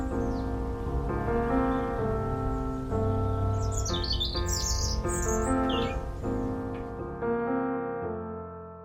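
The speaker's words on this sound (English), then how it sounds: "the birds are singing as well, Chris, so there's some wildlife going on" Birds sing on Outney Common near a print works, bright chirps and tweets high above a steady low engine-like drone, repeating phrases throughout.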